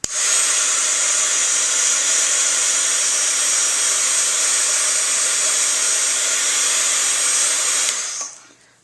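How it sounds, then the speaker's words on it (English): A heat tool blowing hot air onto embossing powder and glitter on a handmade card, a loud continuous whirring hiss held steady for about eight seconds before it switches off and winds down. "you heat the powder until it's kind of bubbly, and then you put the glitter on, and then you heat it again to set the glitter."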